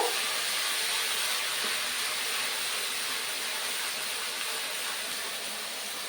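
Onion paste fries in hot oil with bay leaves, dried chillies and cardamom, giving a constant, even hiss that holds steady without breaks.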